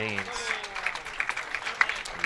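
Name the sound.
bowling crowd applauding at the PWBA finals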